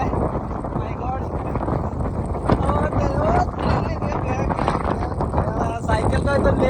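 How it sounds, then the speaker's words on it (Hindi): Strong wind roars steadily against the microphone beside a road during a long-distance bicycle ride, a loud continuous buffeting rush that never lets up. "इतना तेज़ी का हवा चल रहा है"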